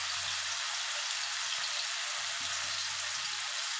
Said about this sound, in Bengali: দেখুন চিকেনগুলোকে আমি একটা একটা করে দিয়ে ভেজে নিচ্ছি।